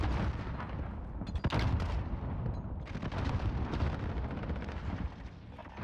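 Gunshots from the video game Modern Warfare crack out in dense, loud volleys, with a sharp nearby blast early on and rolling fire continuing over a rumbling battlefield.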